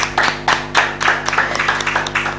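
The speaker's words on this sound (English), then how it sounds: "Another round of applause for Mr. Max Menkiti." Audience applause at a graduation ceremony, with individual claps standing out near and sharp over a sparse crowd, a few loud strikes early and then a quicker, lighter patter; a steady hum sits underneath.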